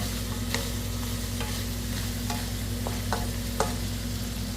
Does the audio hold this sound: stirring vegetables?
yes